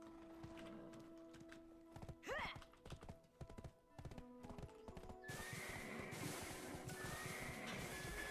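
Horse hooves clip-clopping in the Black Desert PC game, a quick steady gallop rhythm with a whinny near the start, then the hoofbeats carry on under a louder rushing wash of game sound.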